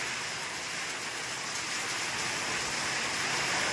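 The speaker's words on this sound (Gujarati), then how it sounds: "વરસાદ પડી રહ્યો છે" Steady, dense heavy monsoon rain falls continuously on farm fields, a soft even hiss with no voices.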